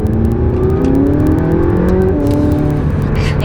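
A McLaren 675 sports car engine drones and revs from inside the cabin, a steady loud mechanical hum whose pitch rises and wavers over a few seconds with no talk.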